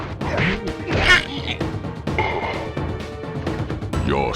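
Fiery Wheel attack in Sly Cooper, a run of game combat sounds with smashing, whacking hits and whooshing swipes, a sharp crash standing out near the start and continued clattering effects after.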